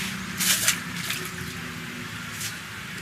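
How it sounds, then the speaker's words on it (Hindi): Water starts pouring into a fish farm pond beneath a two-storey poultry farm, a steady rushing flow at moderate distance with a couple of brief louder splashes early on. "पानी भी दिखाई दे रहा है, पानी गिरना चालू हो गया"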